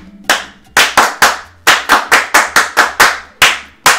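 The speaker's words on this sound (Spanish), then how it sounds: "a ver, un aplauso para Anisley." Crisp, close hand claps for a raffle winner at a Spanish-language event, about a dozen loud separate claps in an uneven rhythm with short gaps, no talking.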